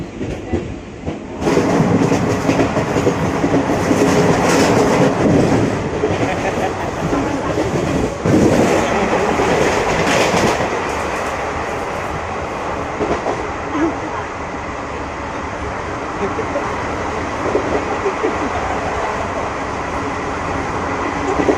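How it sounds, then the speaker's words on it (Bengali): The Hool Express passenger train runs between Suri and Panagarh in India, heard from on board as a loud, continuous rumble and rattle of the carriage with rhythmic wheel clatter and occasional squeals, steady throughout. "আমরা আছি এখন হুল এক্সপ্রেস যা সিউড়ি থেকে ছাড়ার টাইম একটা চল্লিশ"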